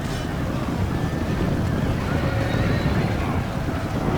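Horses neigh amid a dense, rumbling battle din in the video game Medieval II: Total War, the whinnies faint and buried in continuous noise.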